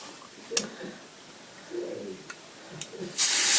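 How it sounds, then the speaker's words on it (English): After a few quiet rustles and soft taps, an aerosol can lets out a loud, close, sustained hiss of spray that continues to the end. "I'm going to take some hairspray,"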